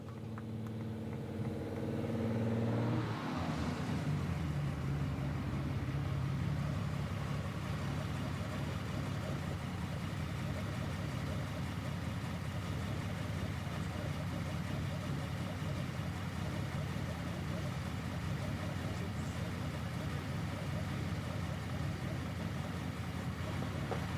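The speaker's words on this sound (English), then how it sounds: "Let's see if that big 12-cylinder motor can pull that Lamborghini up on the awards area." A 12-cylinder Lamborghini at a Concours d'Elegance awards ceremony rumbles up with a deep, steady engine drone that swells after a few seconds and holds. A voice talks over it from near the start.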